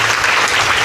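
Audience clapping during a Devi Bhagwat Katha religious discourse, a dense burst of loud, steady applause from a crowd.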